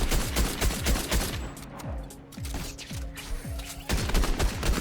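Rapid bursts of video-game gunfire from Fortnite, dense repeated shots with a pause mid-clip filled by a few spaced booming shots, then fast firing again, loud and close.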